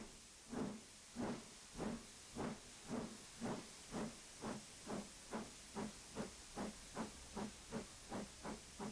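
A 9F steam locomotive in a train simulator game chuffs away on departure, with rhythmic hissing steam exhaust beats that gradually quicken, moderately loud and steady with no talk.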